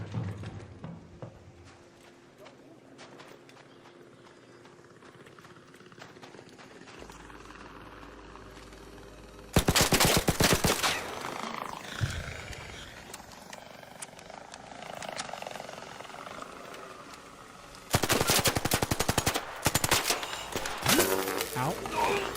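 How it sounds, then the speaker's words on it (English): Gunfire in a raider-themed video game: loud, dense bursts of rapid shots in two long volleys, separated by quieter stretches of ambient rumble and scattered clicks. "Oh, shooting."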